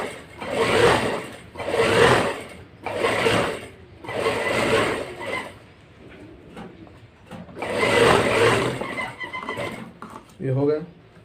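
Sewing machine stitching a blouse sleeve close to the edge, heard as a series of short, loud, close bursts of rapid stitching separated by brief pauses.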